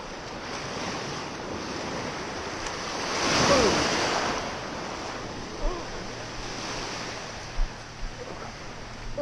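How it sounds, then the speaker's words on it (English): Ocean surf at Sebastian Inlet, with broad waves washing and breaking steadily; one swell builds to a louder crash midway, over constant wind rumble on the microphone and a few sharp knocks near the end. "these waves sometimes will just come out of nowhere"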